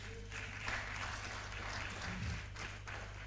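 Applause from an audience at a leadership talk, a faint, continuous patter of clapping heard from a distance.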